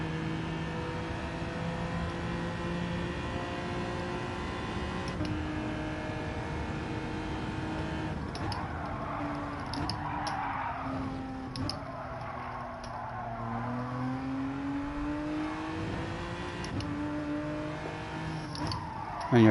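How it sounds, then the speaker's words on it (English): A race car engine in Gran Turismo 7 drones and revs continuously, pitch climbing and falling through gear changes over a steady loud roar, with brief tire and track noise mixed in. "And you're clearly meant to rev it out to get the best out of it."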